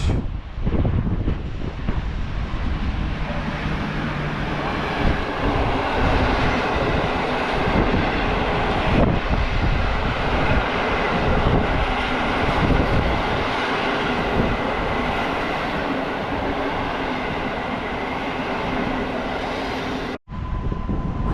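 A TLK Katamaran passenger train from Gdynia to Łódź passes through Warszawa Toruńska station, a sustained loud rumble and rail roar with wind buffeting the microphone, continuing steadily before cutting off abruptly near the end.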